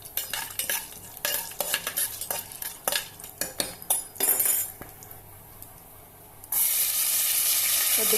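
Mustard seeds, cumin, chana dal and urad dal fry in a pan, with a spoon clinking and scraping against the metal in quick strokes, then a loud hiss of sizzling oil near the end.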